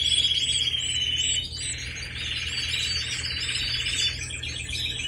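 Young songbird chicks chirp constantly in high, rapid, overlapping peeps, loud and close, over a low steady background hum.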